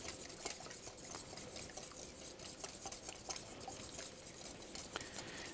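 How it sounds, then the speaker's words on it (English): Vigorous whisking of oil into a quick vinaigrette dressing in a bowl, a steady fast patter of the whisk with faint liquid sounds, quiet and continuous, no talking. "as I pour the oil in, you go ahead and whisk that very vigorously"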